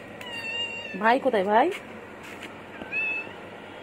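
Pet cat Chingri meows while being fed fish at home, a quick run of several wavering meows followed later by one shorter meow, close and clear, with a person talking nearby.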